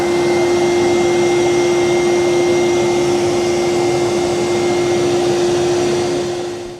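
A shop vac fitted with an Oneida Dust Deputy cyclone runs loud and steady beside a Ridgid job site table saw, a constant whine with a strong tone that begins to wind down at the end.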